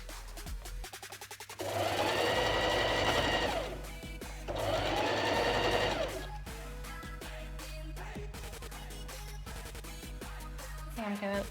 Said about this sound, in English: let you have a quick hear of how it sounds